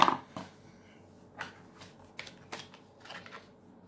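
Oracle cards are shuffled by hand in a quiet room, a series of soft, brief riffling swishes spaced irregularly and fairly faint.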